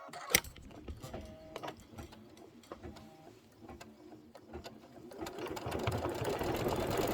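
A Kimberbell embroidery machine stitches a circle detail on a dimensional badge, with a rapid, steady mechanical chatter of needle strokes that rises in loudness and density toward the end, close by and without talk.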